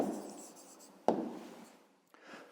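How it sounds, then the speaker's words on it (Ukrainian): Pen or pencil writing out a fifth-grade maths answer by hand, a steady close scratching across the paper broken by two sharp taps, with no talking. "Отже, записуємо тоді відповідь, пишемо відповідь."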